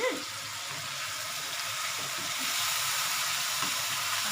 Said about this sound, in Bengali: আচ্ছা, এটা একটু কষাচ্ছি